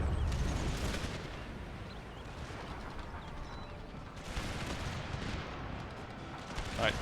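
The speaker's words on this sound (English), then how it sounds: "The cannon shots as they rip through." Cannon fire in a video game battle: a dense, continuous roar of booming shots and blasts rolls on throughout, with heavier surges of fire near the start and again midway.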